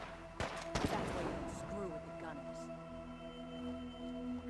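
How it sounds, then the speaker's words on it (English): A couple of sharp gunshots crack early during Fallout 4 combat, followed by a sustained tonal game hum and murmured voices, with the shots fairly faint against the background. "There's still someone shooting somewhere."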